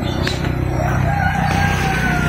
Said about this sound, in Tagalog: Shamo na rooster.